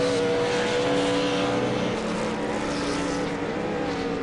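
V8 Supercar race car engine droning steadily at Oulton Park, a continuous loud near mechanical tone with no spoken voices.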